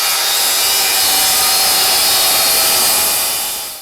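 A power saw rips steadily through a board guided along a homemade straight-cut jig, a loud continuous whine that holds without pause for several seconds before tapering at the end.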